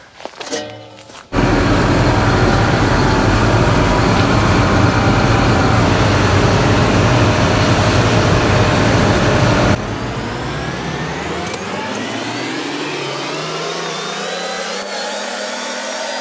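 A farm vehicle's engine starts abruptly and drones loudly and steadily as it drives across a farmyard. Partway through the note drops in level and then climbs gradually in pitch as it pulls away.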